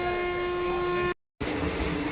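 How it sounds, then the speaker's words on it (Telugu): A train horn on the Tiruvannamalai to Rameswaram line blares loud and steady while the train halts at a red signal. The tone cuts off abruptly, then rolling rail rumble returns. "మళ్ళీ సైరన్ కొట్టాడు"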